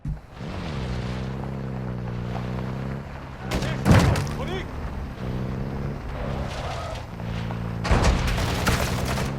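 Scattered bursts of gunfire crack through the Call of Duty video game amid a low engine drone, with a few loud clusters of shots standing out over steady background rumble.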